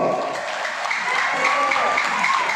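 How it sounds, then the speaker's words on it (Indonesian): An audience claps at Tulungagung's 820th anniversary ceremony in a pendopo hall. The applause is steady and moderately loud, with tonal sounds ringing over the clapping. "Tepuk tangan untuk Kabupaten Tulungagung"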